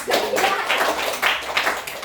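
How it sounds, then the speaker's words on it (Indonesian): Classroom group of training participants claps hands together in brisk, slightly rhythmic applause, close and fairly loud, lasting the whole moment with no talking over it. "tepuk tangan untuk kita semua dulu"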